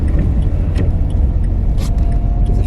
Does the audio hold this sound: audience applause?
no